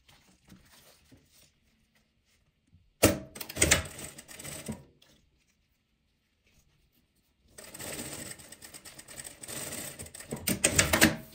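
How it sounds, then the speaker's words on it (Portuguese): A sewing machine stitches fabric in two bursts of rapid, rattling mechanical clatter, one short and one longer, separated by quiet pauses, close and fairly loud. "vou costurar também aqui do outro lado"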